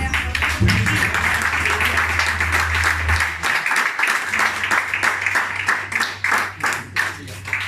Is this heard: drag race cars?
no